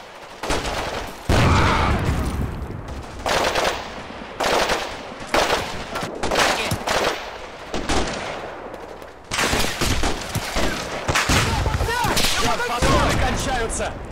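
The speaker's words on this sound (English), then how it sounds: "a firefight rapidly develops as more and more enemy positions unmask in the struggle for fire superiority" War video game firefight with bursts of machine-gun fire and rapid gunshots cracking in repeated volleys, loud and close, some overlapping with heavier impacts and brief pauses between salvos.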